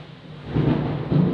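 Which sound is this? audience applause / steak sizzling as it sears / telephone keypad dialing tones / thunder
thunder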